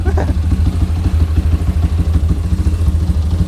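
A used motorcycle's engine runs close by at a low, throbbing idle, with a steady, even pulse and a light mechanical clatter throughout the short stretch.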